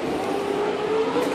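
A Dunlop Series race car passes at the Clipsal 500 in Adelaide, a loud, steady engine roar with a rising whine that stays strong for the whole brief moment.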